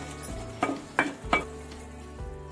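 Ginger garlic paste fries in a pan with turmeric, a soft sizzle broken by three quick scrapes or clinks of a spoon against the pan.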